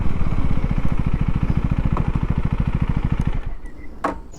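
A KTM Duke 390 motorcycle ridden with its throttle set to rain mode, the engine pulsing in a fast, even rhythm close by. The engine note holds steady, then eases off and fades over the last second.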